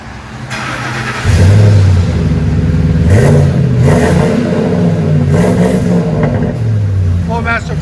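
A Ford F-150 with the 5.4L Triton V8 and Flowmaster 40 series mufflers idles, then revs repeatedly in deep, loud exhaust bursts that rise and fall close by.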